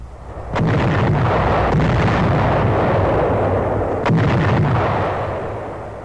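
Naval bombardment of beaches in 1944 wartime film footage: heavy bombs and shells bursting in loud, rolling booms, one blast near the start and another a few seconds later over a continuous rumble.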